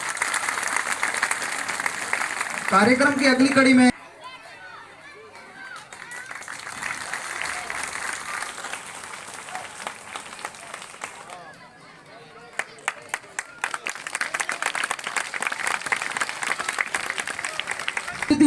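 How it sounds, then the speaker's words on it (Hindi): An audience applauds at a closing ceremony of a government upper primary school in Samdari. Loud clapping opens the scene, an announcer speaks through a quieter middle stretch, and then the applause swells again near the end. "जोरदार तालियां, तालियां में कंजूसी नहीं होनी चाहिए।"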